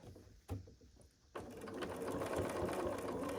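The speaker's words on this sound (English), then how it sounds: "I'm going to start sewing just to stitch this" After a few quiet clicks and a brief pause, a sewing machine starts stitching binding onto a quilted Christmas stocking, its needle whirring in a rapid, even mechanical chatter that stays close and steady.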